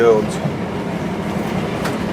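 A passenger train runs steadily on rails with a continuous low rumble and faint rattle, heard from inside the carriage between Chapel-en-le-Frith and Chinley near Middlewood station.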